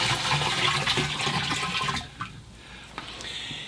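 A bucket of rainwater poured into a barrel, a loud continuous rushing splash for about two seconds that stops, followed by a few small drips and sloshes.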